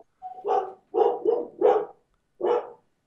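Dogs bark close by, five sharp woofs in quick irregular bursts with short gaps, clear and loud with no talking.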